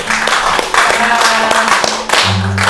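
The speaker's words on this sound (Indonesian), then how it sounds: "Kita beri tepuk tangan lagi dong buat Oma Yati." Audience applause for a veteran Indonesian film actress during an on-set interview, brisk clapping from a small group mixed with a sustained tone and voices over the top throughout.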